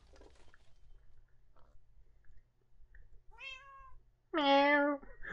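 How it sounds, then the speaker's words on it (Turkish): Two cat meows in the video game Minecraft, a soft one followed by a louder, longer one, over a quiet background. "Anca bir kısık kısık miyav."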